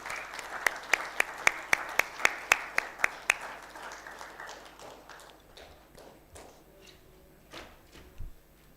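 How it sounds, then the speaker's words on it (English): Applause from the audience at a startup summit in Bhubaneswar as dignitaries are invited onto the stage. Sharp, rhythmic claps dominate the first few seconds, then fade into a looser, quieter patter with a few scattered claps near the end. "I request them to now join us on stage, of course, with a huge round of applause from all of you."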